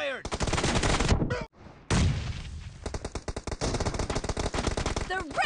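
Rapid automatic gunfire from the shooter game Star Captain, fast bursts of repeated shots with a brief pause in the middle, then further rattling volleys, loud and close.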